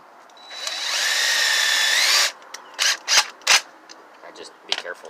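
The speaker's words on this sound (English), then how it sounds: "I may have to get my drill instead of..." A power drill bores into a wooden board at an RV garden, giving one steady whirring run of about two seconds, followed by several short knocks and clatters.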